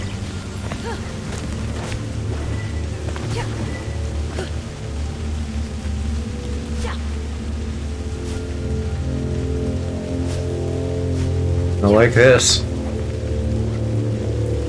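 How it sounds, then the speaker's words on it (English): Steady rain patters in the video game Kena: Bridge of Spirits, a soft continuous wash under game music and effects, while a person talks briefly over it. "Pretty rain."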